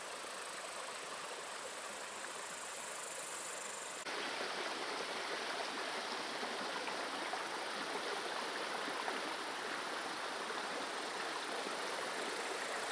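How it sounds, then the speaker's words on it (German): Water floods across a walking path, a steady rushing and trickling flow heard up close with no talking; partway through it grows broader and louder. "hier ist ja alles voll Wasser"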